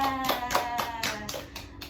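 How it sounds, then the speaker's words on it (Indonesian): Children in a second-grade classroom clap for a classmate, about seven brisk rhythmic claps at a steady pace, close and moderately loud, with faint voices underneath. "Tepuk tangan dulu buat Anca."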